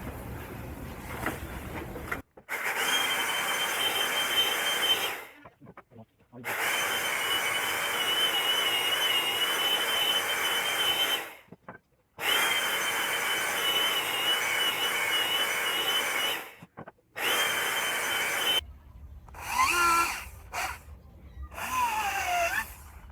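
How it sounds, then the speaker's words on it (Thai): Old wooden window frame being sanded by hand for a desk build: long, steady rasping strokes, separated by short pauses, close and fairly loud, with no talking. "ก็ขัดไปเลยนะครับ เดี๋ยวเวลาประกอบแล้วขัดยาก"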